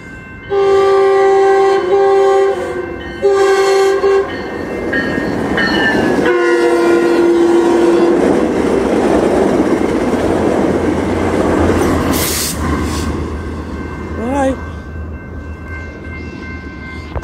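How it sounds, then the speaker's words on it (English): A Metrolink commuter train passes close by, opening with several loud horn blasts, then a long rumbling roar and rail clatter that swells and holds, with a brief high screech near the end. "Here's the regular Metrolink coming."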